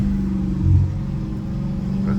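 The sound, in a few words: straight-piped catless Hellcat Redeye engine revving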